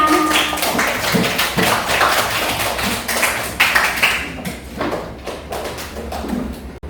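A classroom of students clapping together after a group presentation, brisk, uneven claps close by that thin out and fade toward the end, with some scattered knocks and shuffling mixed in.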